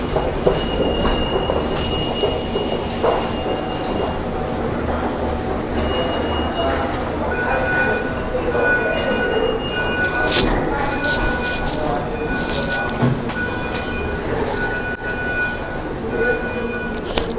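Steady rumble and rattle of a moving commuter train carriage, with faint squealing tones from the rails and murmured voices in the background.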